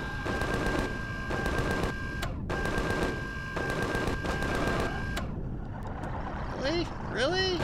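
A turret in the video game Empyrion Galactic Survival fires in long, rapid automatic bursts separated by short pauses, loud and close, followed by rising electronic chirps.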